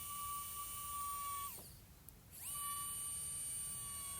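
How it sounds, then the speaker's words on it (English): Die grinder carving a wooden bird feeder, a steady high-pitched whine that dips sharply as the tool slows, then spins back up to speed. "this die grinder is perfect for this kind of work"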